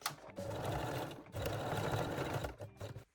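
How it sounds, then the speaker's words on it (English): A sewing machine stitches the seam allowance on mesh panties with lacy edges, running in two steady bursts separated by a brief pause, then a few short stops at the end. "I just like to stitch the seam allowance from the center back seam to one side"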